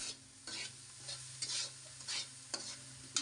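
Green chili curry frying in a pan, with a steady sizzle and repeated bursts of a utensil scraping and stirring, alone without talk.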